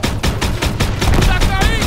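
Rapid bursts of gunfire in the Call of Duty WWII video game, loud repeated shots in a fast rhythm, with a brief high whine near the end and some game voices underneath.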